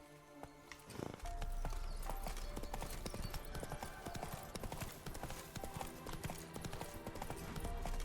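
Roach, the horse in The Witcher 3: Wild Hunt, clip-clops along in a steady rhythmic hoofbeat that starts after a brief pause, set against game music and ambience.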